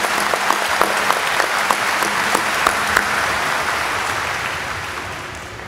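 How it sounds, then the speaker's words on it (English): An audience at a Pearl River Community College graduation ceremony gives a sustained round of applause, dense and fairly loud with sharper individual claps standing out, gradually tapering off toward the end. "let's give these folks a round of applause"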